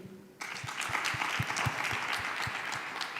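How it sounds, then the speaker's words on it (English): At a diplomatic dialogue event in Kenya, an audience breaks into applause suddenly, a dense, steady round of clapping with faint rhythmic thumps beneath, fairly soft and without talk. "Give another round of applause, guys"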